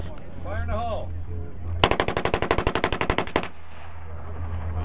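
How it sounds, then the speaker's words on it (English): A German WWII light weapon fires a single long automatic burst of roughly twenty rapid, evenly spaced shots at outdoor range, loud and sharp, after a brief faint voice. "Guess that's the machine gun."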